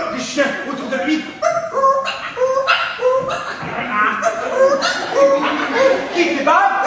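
Several dogs bark, yip and whimper close by in a busy, continuous stream of overlapping calls that stays loud throughout.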